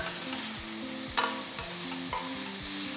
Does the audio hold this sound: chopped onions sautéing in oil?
yes